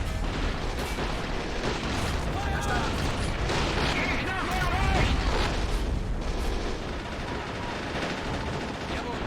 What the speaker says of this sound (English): All right, artillery fire up.